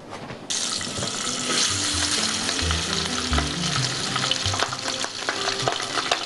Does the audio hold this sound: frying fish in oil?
yes